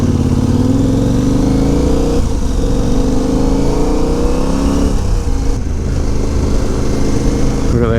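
A Kawasaki ZX6 motorcycle engine runs loud and steady throughout, its rough droning harmonics rising and falling as the revs shift, with a brief rev climb near the end.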